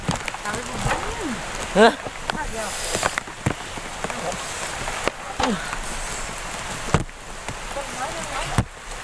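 Steady rain patters on a surface throughout, outdoors on a shellfish-gathering outing, with a person talking intermittently over it and a few sharper knocks.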